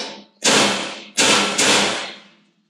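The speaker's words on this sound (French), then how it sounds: "quand vous percez sur de la ferraille, hein, le mieux c'est de prendre un pointeau" A center punch is struck into scrap sheet metal before drilling. Three sharp, loud metallic taps ring close up, each decaying quickly, with no talk.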